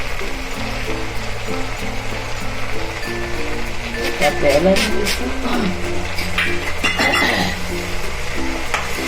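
Whole spices and dried fenugreek leaves tempering in hot oil sizzle steadily in a pan for a Gujarati chaapdi taavo gravy, with stirring clatter and a voice talking throughout.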